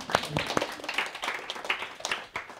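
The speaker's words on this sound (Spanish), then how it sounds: "podéis aplaudir también" Scattered hand claps from a small group, uneven and fairly quiet, fading in and out over a couple of seconds.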